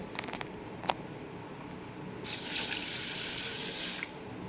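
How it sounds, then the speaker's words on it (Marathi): Moong dal is rinsed under a running tap in a sink, a few faint clinks giving way to a steady close stream of water splashing into the bowl. "आता ते आपण दोन ते तीन पाण्याने स्वच्छ धुवून ती आपण दोन ते तीन तासासाठी भिजत टाकणार आहोत"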